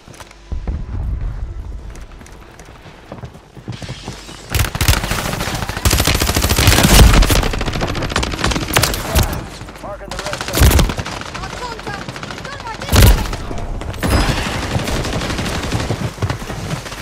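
Dense, loud automatic gunfire and scattered single shots from Call of Duty Warzone 3 gameplay, in bursts with brief lulls across a busy battle soundscape.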